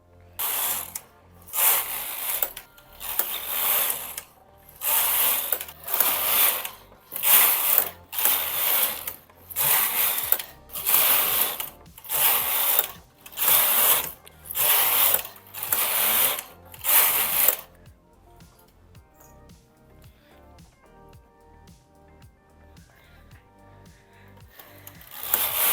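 A knitting machine knits the sole of a Halloween sock. Its carriage makes loud, rhythmic ratcheting passes back and forth, about a dozen strokes at a steady beat. Then it stops, leaving quieter clicks and handling sounds.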